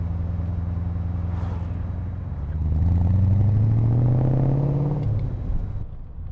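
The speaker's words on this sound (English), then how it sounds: "I'm just going to warm the car up now" A restored 1960s Aston Martin DBS V8 idles as it warms up, a low rumbling burble that swells into a louder, rising rev before settling back, heard close with no talk.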